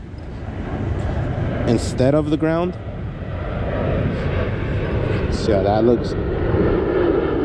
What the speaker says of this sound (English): wow, these airplanes. We're really close to the airport.